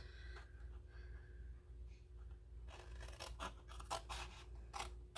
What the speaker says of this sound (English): I'm just cutting a line so I can fold this in on itself.